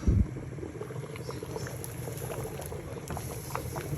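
Mokary steaming in a covered mould in a pot of boiling water, a quiet steady bubbling and gurgling with a brief bump at the start.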